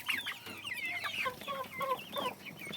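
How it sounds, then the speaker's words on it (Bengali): Young chicks and hens in a village coop cluck and cheep close by, a busy overlapping run of short calls and chirps with no talk over them. "এই মুরগিগুলো আছে এই যে বাচ্চা মুরগি"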